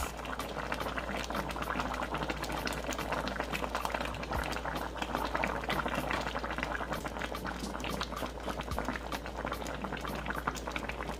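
A pot of Bahamian crab soup with salt beef bubbles at a steady rolling boil, dumplings going in, a dense, even hiss of bubbling that carries on evenly from start to finish.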